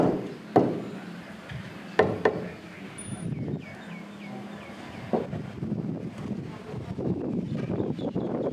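A rubber mallet taps Q-CON wall blocks on a house build site in Thailand, giving a few sharp knocks near the start and then scattered softer taps over steady outdoor wind and site noise.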